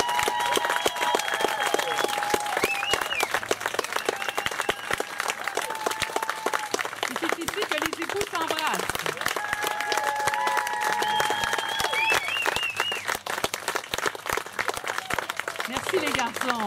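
Wedding guests applaud the newly married couple in a dense, sustained burst of clapping, with voices and cheers mixed in throughout.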